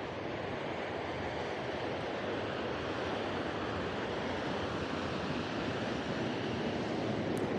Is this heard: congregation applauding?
no